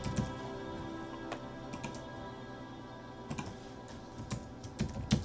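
Quiet typing on a Bluetooth computer keyboard that connects to three devices, used while coding C# in Visual Studio on Windows, with soft scattered key clicks and a few sharper taps, close but faint, no talk.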